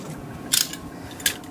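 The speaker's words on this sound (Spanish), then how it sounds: "cortando la cinta adhesiva que nos indica que este paquete nunca ha sido abierto hasta ahora" Two short, sharp snips cut adhesive tape sealing a He-Man vs Skeletor 40th anniversary toy set package, close and alone with no talk.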